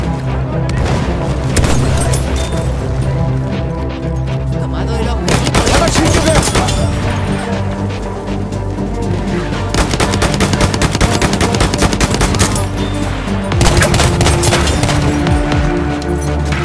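Enemy machine gun fire in Battlefield 1 on Xbox One, dense loud bursts of rapid automatic shots with booming impacts, repeating in several long volleys across the whole stretch.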